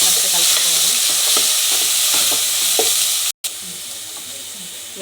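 Vegetables with turmeric being stirred in a pan on a stove for veg biryani, a steady sizzle with soft scraping strokes, broken by a brief dropout midway.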